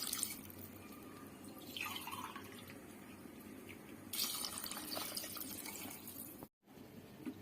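Water poured into rice in a pot for village-style pulao, a soft trickling, splashing flow that rises in intensity partway through and then cuts off abruptly near the end.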